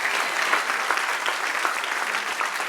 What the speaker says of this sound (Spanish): Del otro aplauso.